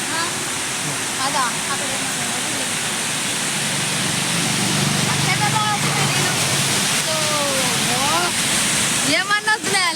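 Water roars continuously at Srisailam dam, a broad, heavy rush filling the scene up close, while voices speak over it and a few whistle-like chirps rise near the end.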